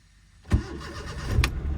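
A manual car engine cranks and catches, with a sharp start burst midway followed by a steady low idle rumble close by, ending in a second louder surge.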